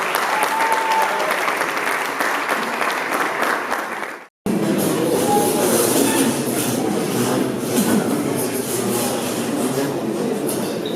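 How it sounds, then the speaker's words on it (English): Dense, loud audience applause at a youth awards ceremony, steady clapping that breaks off briefly and then resumes at full strength, crowd noise mixed in. "Ladies and gentlemen, round of applause."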